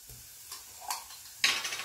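Garlic browning in oil in a pan for a shrimp paste dip, a quiet sizzle with a few light utensil scrapes, then a louder burst of hissing near the end, close with no voices.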